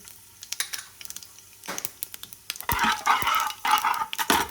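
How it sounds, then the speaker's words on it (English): Cumin and nigella seeds pop in hot oil: sparse sharp crackles at first, then a denser burst of rapid popping and spitting over a rising sizzle. "I'm putting the gas a bit down because it's popping."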